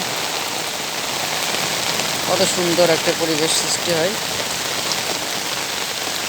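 Heavy rain pours steadily in a village, a continuous dense hiss of drops on surfaces, while someone speaks briefly over it in the middle.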